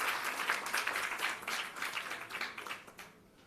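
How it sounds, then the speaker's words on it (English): A crowd at the South Africa Rural Investment Summit applauds as a youth-wing panelist walks on stage, a steady wash of clapping that thins and fades out near the close. "Please give a round of applause to Nkosi as they come on stage."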